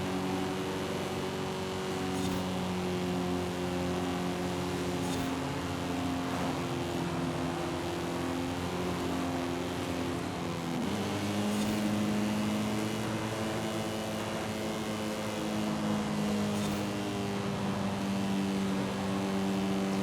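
A 2018 Porsche 911 GT2 RS engine in Forza Horizon 5 drones steadily at half throttle, a loud continuous harmonic hum whose pitch dips briefly midway before settling again, with no talk over it.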